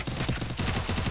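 Rapid gunfire in a video game, with dense, loud shots stacking into a continuous burst that fills the whole second.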